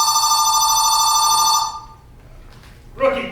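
A telephone bell rings steadily for about a second and a half and then stops, loud and close, followed by a faint voice as someone starts to speak.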